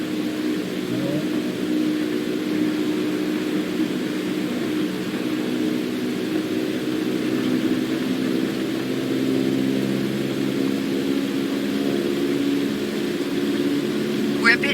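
A propeller airplane engine drones steadily as the plane taxis along a runway, a continuous close hum with a stable pitch that holds for the whole stretch, and speech is heard over it at times.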